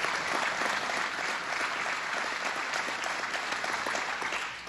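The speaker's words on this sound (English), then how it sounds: "you should applaud there" An audience at a State of the State address in Rockland County breaks into sustained applause, a dense wash of many hands clapping steadily at moderate volume, easing off slightly toward the end.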